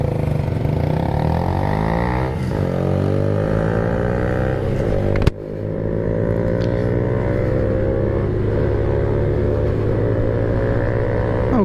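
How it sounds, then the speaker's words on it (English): A geared 125cc motorbike at the front of a scramble race start, accelerating hard near the redline: a loud, continuous engine howl with rising and shifting pitch, a sharp bang partway through, then steady high revving. "Now you can hear that bike at the front just give it absolutely everything."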